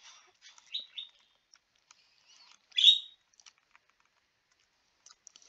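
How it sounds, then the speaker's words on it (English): Parakeets chirp in the background of a quiet indoor room, giving a few short, thin tweets and one brighter call partway through, with faint clicks between them. "Don't mind the parakeets in the back."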